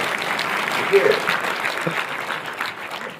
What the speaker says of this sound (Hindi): जो भाई ताली बजाइए